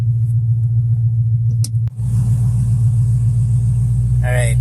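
A car with a broken drivetrain idles with a low steady engine hum as the clutch is released in third gear, a brief dip and clunk, then the engine runs on with a slightly rougher rumble.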